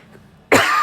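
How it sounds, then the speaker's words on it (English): A single sharp, close cough bursts out after a moment of near silence. "I might be coughing from time to time"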